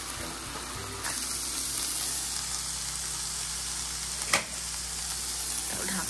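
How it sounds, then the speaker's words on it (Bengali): Food sizzling steadily in a pan at moderate level, with a brief clatter near the end and no talk. "তারপর একটা ডিমও ভেজে দেবো"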